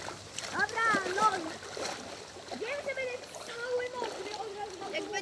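A person jumps into water outdoors, a short splash breaking through as excited voices talk loudly over and around it.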